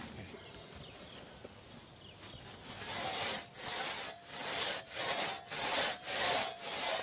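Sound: long two-man crosscut saw sawing through a tree trunk

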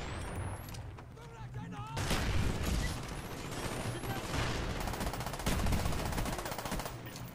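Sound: FAMAS gunfire in the video game Black Ops 1

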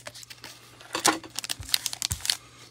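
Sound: opening a trading card pack, cutting off the top

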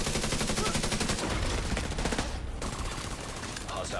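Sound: gunfire from The Division 2 video game

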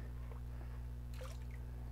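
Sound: water spilling out of a gold trap

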